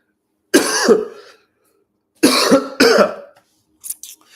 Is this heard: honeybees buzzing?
no